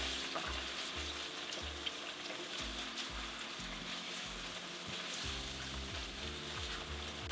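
Tofu frying in a pan of oil, a steady close crackling sizzle that carries on throughout, with faint background music underneath.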